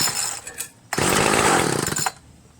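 A Ryobi 31cc gas rototiller engine roars up loudly for about a second, holds a rough buzzing run, then cuts out abruptly, with a quieter sputter before it.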